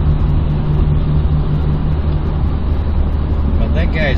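Steady road rumble of a truck hauling two semi-trailers, a constant low engine and tyre drone heard from inside the cab, loud and unbroken, with a voice briefly heard near the end.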